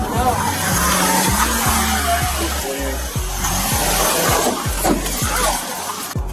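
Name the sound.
car engine revving and tires skidding while reversing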